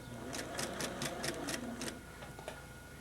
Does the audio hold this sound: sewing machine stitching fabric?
yes